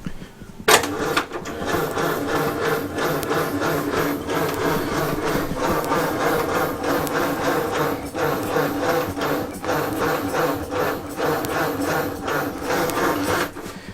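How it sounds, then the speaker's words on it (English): A 1932 Morris Minor's pre-war engine being cranked over: a steady, rhythmic mechanical churning and clattering that begins abruptly and carries on loudly, close by, throughout. "just give it a spin over and just see if there's anything going on"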